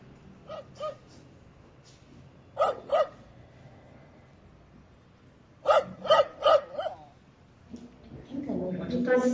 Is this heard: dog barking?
yes